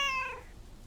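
A single short cat meow in the video game Lake, a clear tonal call that sits close and distinct for a fraction of a second before fading away.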